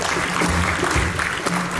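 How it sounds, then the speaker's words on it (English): Gala auction audience applauding the bidders, a brief burst of clapping with crowd murmur and some voice underneath. "You guys applause to people who are bidding."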